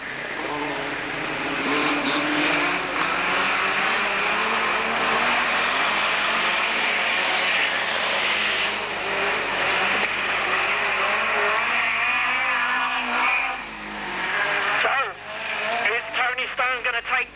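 Hot rod race cars lapping a circuit during a 30-lap hot rod race at a Braintree meeting in 1991, engines roaring steadily as a pack, with a commentator talking continuously over them.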